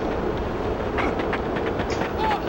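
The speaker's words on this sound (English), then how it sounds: "I'm stuck under the tram!" A tram rumbles in GTA San Andreas, with a continuous rolling rail noise, faint clicking, and a brief wheel squeal near the end, all close and steady.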